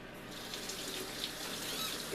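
Cool tap water runs steadily into a sink, rinsing Canadian bacon that has marinated for five days; a continuous, close, even splashing with no talking.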